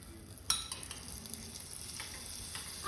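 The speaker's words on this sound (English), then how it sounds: "Now let's add some butter" Butter hitting a hot pan of smooth kadai paneer paste, a soft, even sizzle with one small clink near the start, fairly quiet and with no voice.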